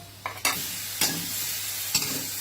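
Luffa gourd stir-fried in a pan, with a steady sizzle broken by a few scraping stirs of the spatula, close and moderately loud, no voices.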